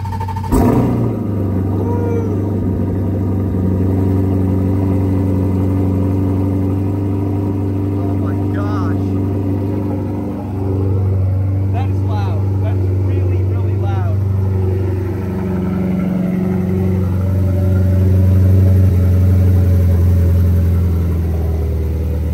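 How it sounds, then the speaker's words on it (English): A twin-turbo Corvette C8 engine cold-starts with a sharp burst, then settles into a steady, loud idle rumble that rises and falls slightly over twenty seconds. "We're gonna do a coldish start on this C8."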